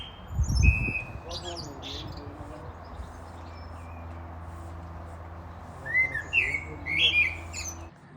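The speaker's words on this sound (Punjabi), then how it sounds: "ਇਹ ਹੈਗੀ ਆ ਯੂਕੇ ਦੀ ਕੋਇਲ" A cuckoo in the UK sings in short whistled phrases, a few calls near the start and a brighter burst of song toward the end, over a low steady hum with faint voices.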